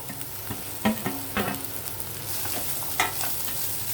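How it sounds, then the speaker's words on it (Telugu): Bitter gourd, onions and grated coconut fry in a pan with a steady sizzle, broken by a few scraping stirs and clinks from a spoon, close and clear with no one talking. "ఈ కొబ్బరికూర కూడా ఇందులో కొంచెం ఏగనిద్దామండి"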